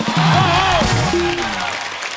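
A studio audience on The Kapil Sharma Show claps steadily as Akshay Kumar makes his entrance, a dense wash of applause under a voice and a few musical tones.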